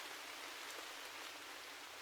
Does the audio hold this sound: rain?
yes